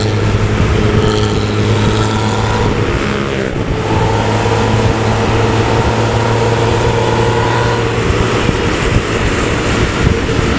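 Loud racing-style motorcycle exhaust roars steadily and close, a dense continuous engine drone with rising revs on the Pantura road, no voices over it.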